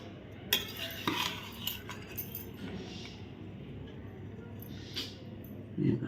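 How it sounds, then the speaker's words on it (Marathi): A spoon gently stirs coconut milk rice in a pot, giving soft scrapes and light metallic clinks at a low level, with quiet talk now and then. "त्यामुळे अगदी हलक्या हाताने ढवळायचं"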